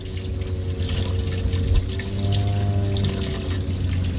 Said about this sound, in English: Run the hot water.